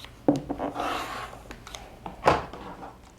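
Fabric cut along a ruler for a Christmas panel quilt, two short rasping strokes of a blade through cloth against a cutting surface, with soft rubbing and handling noises between them, close and quiet, no voice.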